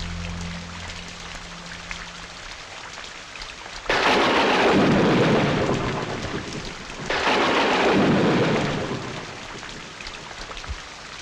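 Heavy rain pours steadily in a movie scene while thunder breaks in twice, two long loud rumbling surges that swell over the downpour and fade back into the hiss of falling rain.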